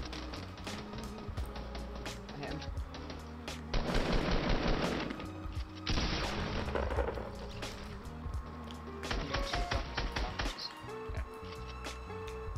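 Gunfire in the Fortnite Battle Royale video game: rapid bursts of automatic fire in several loud clusters, mixed with game effects and background music.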